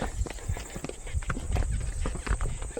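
Hooves of a horse walking over rocks, a series of sharp, uneven clops and knocks up close, with someone talking quietly over them.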